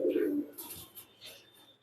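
A single low coo from a pigeon in a cage opens, followed by faint rustling and soft clicks nearby; no talking.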